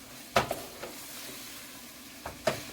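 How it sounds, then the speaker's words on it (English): Diced carrots tumble into a frying pan for lumpia filling, giving a few sharp clattering hits and a soft sizzle, with a quiet stretch between the first bursts and a last pair of impacts. "So I'm going to go ahead and add my carrots in, my cup of diced carrots."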